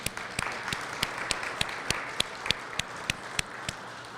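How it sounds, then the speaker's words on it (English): Audience applause at a Connecticut water awards ceremony: a modest crowd clapping steadily with sharp individual claps standing out at a regular pace throughout, moderately distant and fairly quiet. "So let's give them a round of applause"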